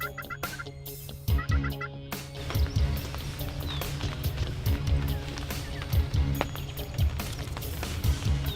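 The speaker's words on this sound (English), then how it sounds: "We hear a gobble." Wild turkeys gobble repeatedly from the woods on a hillside, several loud rolling gobbles spaced through the clip among other outdoor rustling and faint background sounds.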